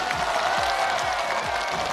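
A studio audience applauds steadily, welcoming a contestant onto the stage of a Chinese TV challenge show, with dense continuous clapping and soft rhythmic thumps beneath.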